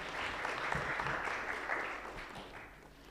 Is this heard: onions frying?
no